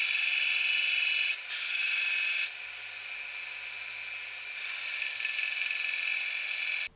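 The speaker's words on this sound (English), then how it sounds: "put it up against the belt grinder and take off as much as we can without going all the way through it" Belt grinder grinding down a metal part from a go-kart motor, a steady high-pitched whine that drops in pitch when the part is pressed harder against the belt, then rises again, heard up close without talk.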